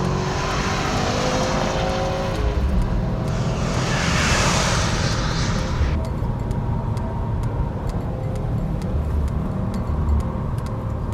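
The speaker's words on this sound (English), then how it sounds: "That engine sounds good." 2018 Subaru WRX STI Type RA engine under way, a loud continuous drone with a rising surge of intake and road noise, heard from inside the car alongside light ticking.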